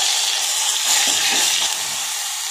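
Ginger-garlic paste hits hot oil already tempered with mustard seeds and cumin, giving a loud, steady, close sizzle with a brief surge of spattering in the middle.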